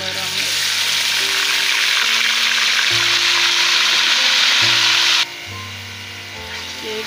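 Onion and green chili paste frying in garlic-ginger oil for dal mash, a loud, steady sizzle that fills the pan before dropping to a quieter hiss, with background music and tones running underneath.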